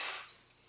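A late-1970s Korean-made Coca-Cola toy robot in the style of R2-D2 emits a steady high-pitched electronic beep, holding one continuous tone after a brief hiss, close and clear with no talking.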